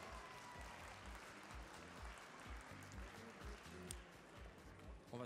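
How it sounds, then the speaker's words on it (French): An audience claps for the jury at the Cuisines en Scènes 2015 cooking event, sustained dense applause from a hall crowd, steady and fairly loud throughout with a voice faintly underneath. "Et on applaudit François qui vient me rejoindre, François Mirgalet, Aurélie Mathéo."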